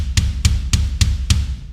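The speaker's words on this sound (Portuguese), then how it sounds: "é o meu som de bumbo de uma outra gravação que eu utilizo dentro do meu módulo" Five evenly spaced punchy kick drum hits from a sampled studio acoustic bass drum sound, triggered through a Roland TM-2 trigger module, loud and close with a short decay, played alone.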